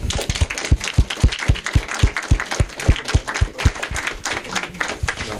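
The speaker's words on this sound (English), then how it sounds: "at the very least we should give a big round of applause" A small audience at a candidates forum claps in a sparse, rhythmic patter of distinct hand claps, fairly close and moderately loud, lasting several seconds.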